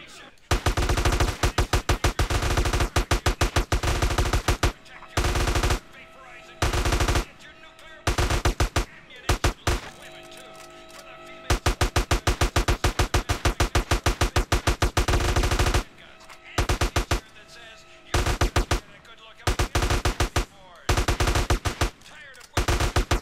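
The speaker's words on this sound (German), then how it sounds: "AK-47, das ist jetzt die letzte Waffe" Rapid AK-47 automatic fire at a shooting range in the video game GTA San Andreas, loud bursts of shots separated by brief pauses and repeating throughout.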